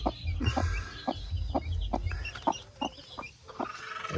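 An angry broody hen on a small farm clucks in a series of sharp, rhythmic bursts close by, under a low background rumble.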